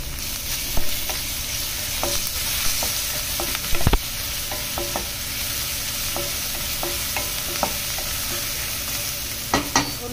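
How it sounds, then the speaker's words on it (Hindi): Garlic and asafoetida sizzling in a pan with softened onion, stirred now and then with a spoon that taps and scrapes the metal over a steady, close frying hiss. "लहसुन को ज़्यादा नहीं भूनूंगी"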